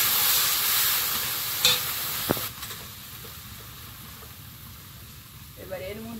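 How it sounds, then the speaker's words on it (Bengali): Prawns sizzle and hiss loudly in a hot pan, then a couple of sharp knocks as water goes in and the frying drops to a quieter, softer bubbling simmer. "চিংড়ির মধ্যে এবার একটু জল দেবো।"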